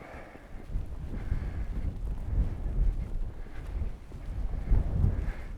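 Wind gusts rushing and buffeting against the microphone during a blizzard on a city street in Livingston, Montana, a steady low roar rising and falling in loud bursts, with no talk.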